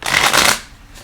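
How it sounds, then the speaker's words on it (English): A quick riffle of tarot cards being shuffled, one loud, close, papery burst lasting about half a second before fading out. "So is that I should stop shuffling?"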